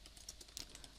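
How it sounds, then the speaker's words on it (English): Quick, light keystrokes on a computer keyboard typing a chat message, a rapid uneven patter of clicks, close but quiet, with no talking. "Let's type something more over here."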